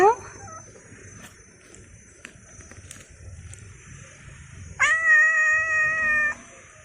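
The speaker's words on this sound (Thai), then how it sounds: "แมว แมวครับ" A rescued stray cat gives a short meow at the start and a longer, clear, drawn-out meow near the end, close and fairly loud, with quiet background noise and someone talking softly between the calls.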